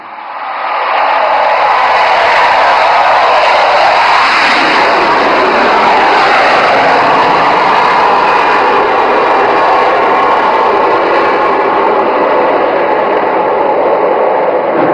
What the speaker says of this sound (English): Abhimanyu 2 and 3 will carry out a low overshoot over the ELF and number 1 will land